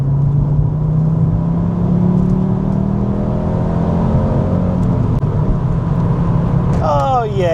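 Audi Quattro pulling hard in third gear, a loud in-cabin engine drone rising steadily in pitch, with a voice speaking over it near the end.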